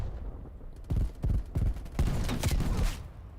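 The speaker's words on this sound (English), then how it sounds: "Alright, hand cannon time." Hand cannon shots fired in a video game, a series of about five loud, punchy reports spaced roughly half a second apart, the last blending into a sustained burst with ringing tail.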